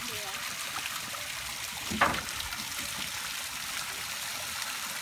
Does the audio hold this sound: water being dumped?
yes